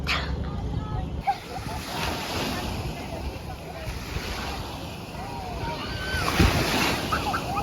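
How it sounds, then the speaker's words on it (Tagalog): Strong sea waves surge and wash around a small boat off Camotes, a steady rushing churn with wind buffeting the microphone and voices talking over it. "Lumakas yung alon."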